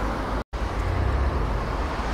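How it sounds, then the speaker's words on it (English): A coach drives past a roadside bus stop, a loud steady roar of engine and tyre noise close by, broken by one brief dropout. "Nice coach. That's certainly not going to be the bus."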